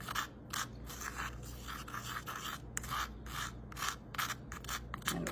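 Herbs and spices being mixed by hand for a bay rum blend, giving repeated dry rustling and scraping strokes, close and fairly quiet, with no talking.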